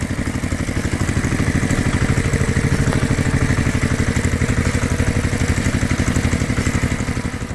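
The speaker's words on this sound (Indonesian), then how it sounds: "Suara mesin menggelegar, menghidupkan kebun yang damai." A red farm tractor's engine roars loudly in a steady, rapid mechanical chug with clattering overtones. It holds constant and close throughout, with no voices.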